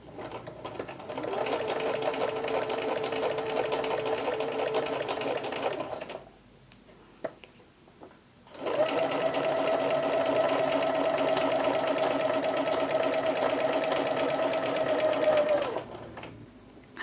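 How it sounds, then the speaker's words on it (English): A sewing machine top stitching vegan leather with a leather needle runs in two steady, whirring bursts of several seconds each, separated by a short quiet pause with a few small clicks. "So we're going to slide this underneath the same way, and then go ahead and top stitch this piece."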